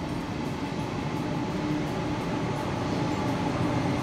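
A KTX high-speed train arriving at a station, heard as a steady, loud broadband rumble with a faint rail hum that holds constant throughout, with no voices over it.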